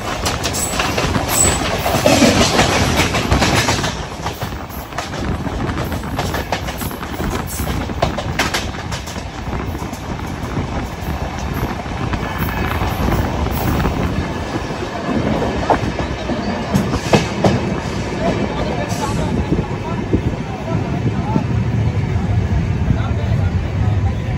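An Amrit Bharat Express train on the Malda to Bengaluru route, a loud continuous rumble of wheels on rails with rattling carriages heard from inside, voices talking over it throughout.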